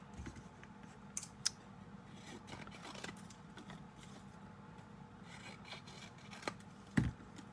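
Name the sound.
scissors trimming paper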